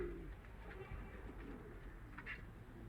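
Pigeons in a coop give soft, low, repeated coos over a quiet, steady background, faint and somewhat distant, with no talking.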